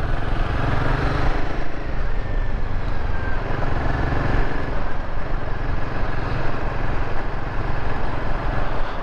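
A Royal Enfield Himalayan 450 motorcycle engine drones steadily while being ridden on real-world roads, a continuous close rumble with wind noise and no pauses.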